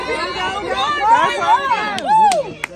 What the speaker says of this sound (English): Cheering parents, player chants, and aluminum bats. All familiar sounds of Little League baseball